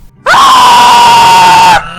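A single long, loud, high-pitched scream from a YouTuber, used as a special attack sound, starts abruptly, holds one strained pitch for about a second and a half, then cuts off.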